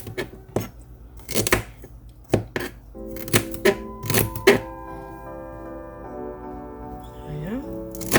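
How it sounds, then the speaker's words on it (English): A knife chops vegetables on a cutting board for a tuna melt sandwich, giving sharp, irregular thuds in quick bursts, with a tonal hum rising in the background partway through. "Keep chopping like so."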